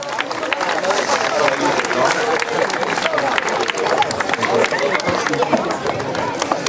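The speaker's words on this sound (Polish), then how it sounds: "Wielkie brawa dla pana Bartłomieja" An outdoor crowd at a skate park opening claps continuously, a busy, fairly loud patter of hands mixed with crowd murmur.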